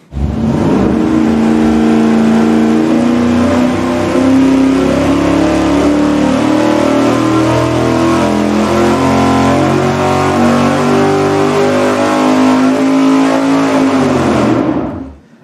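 A V8 engine fires up on a dynamometer and holds a loud, sustained high-rpm pull for about fourteen seconds, then cuts off sharply. The roar is continuous and close, with no voices.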